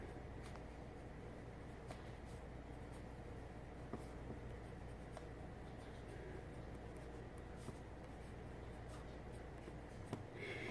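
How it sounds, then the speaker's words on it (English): A pen writes a note on thin, pliable stone paper with a translucent vellum-like texture, giving soft, faint scratching strokes against a quiet background. "so I will write here"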